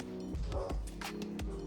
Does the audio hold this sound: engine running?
no